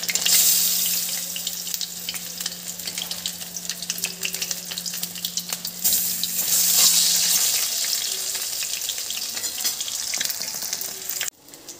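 Pointed gourd (potol) pakoras fry in hot oil with a loud, steady crackling sizzle that swells and eases, a faint hum beneath, ending abruptly with a clatter; no voices.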